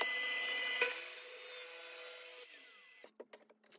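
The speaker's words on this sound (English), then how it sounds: "Not so much the sander though," An electric sander works on a wooden jewelry box, a quiet steady whine with a slight pitch change near the middle, before it winds down and spins to a stop, followed by a few light knocks.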